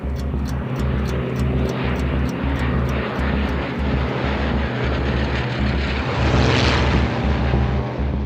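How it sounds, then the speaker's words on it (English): Luftwaffe warplanes of the Battle of Britain flying across the Channel, a loud steady engine drone with a throbbing low pulse, holding at constant level throughout. "observers spot the first wave of Luftwaffe aircraft heading across the Channel"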